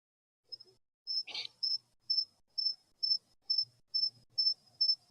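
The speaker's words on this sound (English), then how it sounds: "Them be crickets in my backyard." Crickets chirp in a backyard at night, a steady train of about ten evenly spaced sharp trills, clear and fairly close, with one brief louder scratch near the start.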